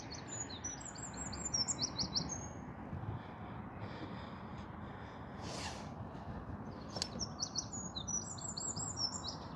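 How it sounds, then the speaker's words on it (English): A Cetti's warbler at Radipole Lake sings short, loud bursts of chirping notes, repeated at intervals over steady low background noise, with another bird's brief calls in between. "Oh, there's plenty Chesil warbler."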